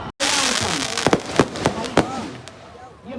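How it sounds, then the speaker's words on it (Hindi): Fireworks burst in the sky at a mela fair in Dewa, a run of sharp cracks and pops in quick succession, loud and close, with someone talking over them. "ये अलग अलग तरीके की आतिशबाजी आकाश में इन्होंने जलाई है।"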